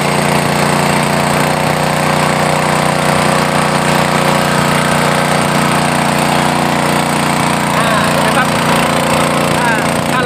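A Sakura 7.5 HP water pump engine runs steadily at a loud, continuous drone under load, with a dense mechanical roar and no pauses throughout.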